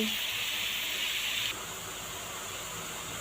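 Finely chopped kalai greens sizzling in hot oil in an uncovered pan, a loud, even hiss that drops to a softer, steady level halfway through.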